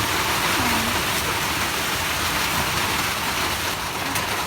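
Heavy rain pours down on a farm in Cambodia, a loud, dense, unbroken hiss that holds steady throughout, with no voices.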